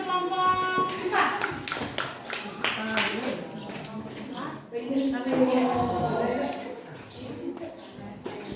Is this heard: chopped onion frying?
no